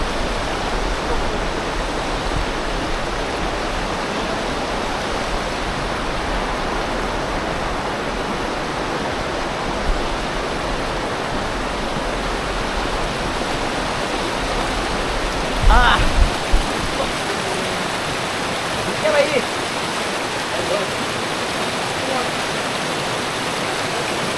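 The Kalu waterfall in monsoon season gives a steady, broadband roar of falling water that runs without a break, with a faint brief voice and a couple of small knocks partway through.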